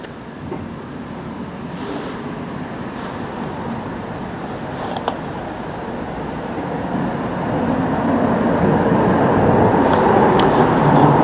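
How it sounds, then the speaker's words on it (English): Road traffic roars steadily beside a sports ground in Hebburn, a loud, continuous broadband rumble that swells gradually towards the end. "Noisy with the traffic again."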